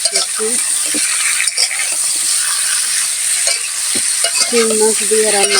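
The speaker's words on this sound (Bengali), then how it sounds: "আর এখানে আমার রান্না হইতেছে আমি রান্না করতেছি" Food fries in a pan on a home stove with a steady loud sizzle while it is stirred. Scraping stir strokes come through the hiss, with voice-like tones near the end.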